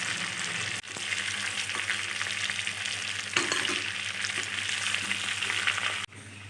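Pieces of yogurt-marinated chicken fry in hot oil, a dense, continuous sizzle close by, broken by two brief dips and small knocks as the pieces are turned over.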